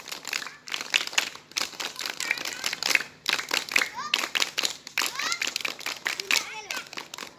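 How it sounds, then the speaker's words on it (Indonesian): Primary schoolchildren perform the rhythmic scout clap, tepuk pramuka, in quick patterned bursts of group clapping mixed with their chanting voices, pausing briefly between rounds. "Tepuk pramuka."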